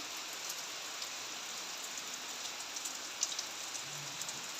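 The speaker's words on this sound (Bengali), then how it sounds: "দেখো বন্ধুরা কত জোরে বৃষ্টি হচ্ছে" Heavy rain falls in a steady, even wash of hiss with occasional louder drops striking a surface, heard at moderate distance with no voices.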